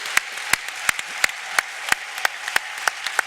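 A church congregation claps in a steady, even rhythm, one sharp clap about every third of a second, moderately close, with no voices.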